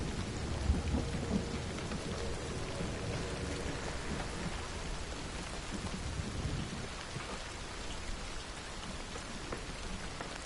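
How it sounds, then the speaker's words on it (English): Loud, steady downpour in the Hunt: Showdown video game, a dense hiss of rain drumming on surfaces that continues without a break, with low thunder rumbling beneath it. "The rain is loud"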